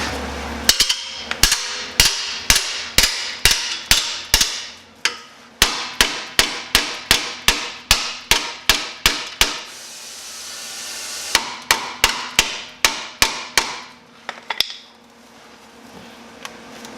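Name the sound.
hammer bending welded steel on Jeep steering box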